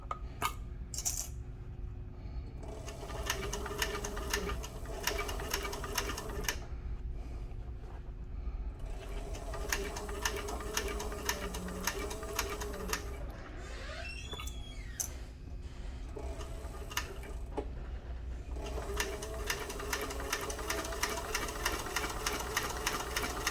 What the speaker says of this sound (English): roll that bottom edge around on the sewing machine